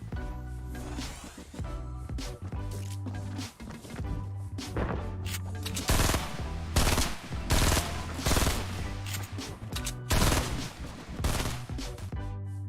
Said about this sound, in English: the glitched players still retain the ability to shoot through the ground even from underneath the map